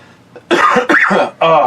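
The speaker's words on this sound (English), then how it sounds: "I've been coughing so much the last few days it actually hurts to cough." A person coughs in three harsh, hacking bursts with short pauses between, close and loud, preceded by a faint throat sound.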